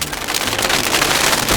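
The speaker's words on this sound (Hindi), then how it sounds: "यहाँ तो बारिश हो रही है।" Cartoon rain of candy pattering down, a dense, loud, continuous hiss of drops striking a surface, close and steady throughout with no speech.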